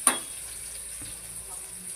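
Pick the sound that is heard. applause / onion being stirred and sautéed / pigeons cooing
onion being stirred and sautéed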